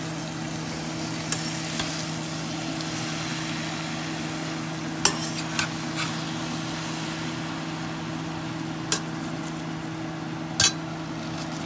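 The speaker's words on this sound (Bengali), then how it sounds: "এগুলো সমস্ত এই দুটো মিলিয়ে খুব অল্প হয়ে যায় বাঁধাকপি বানানোর পরে, একটু আস্তে আস্তে নেড়ে দেবো।" Shredded cabbage cooking in a pan for a fish-head dish, a low steady sizzle beneath a faint hum, with a few sharp clinks of a utensil as it is stirred slowly, no voices.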